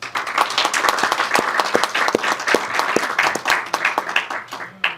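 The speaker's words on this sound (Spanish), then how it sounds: "Un aplauso para ella, por favor." A modest audience at a university book presentation in Peru applauds, with distinct individual claps audible in an uneven, moderately close patter that tapers off at the end.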